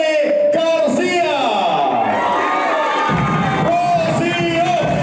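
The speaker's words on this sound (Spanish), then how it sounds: "El aplauso para nuestra amiga Rocío Nelly García." A crowd at a public assembly in Veracruz cheers and shouts loudly and close by, with a loud voice calling out over the din.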